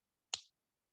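A single sharp finger snap, close and isolated in an otherwise silent moment during a guided visualization exercise.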